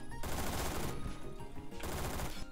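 Honey Badger rifle in the video game Phantom Forces firing in fast automatic bursts, loud and close, with a brief pause between two strings of rapid shots.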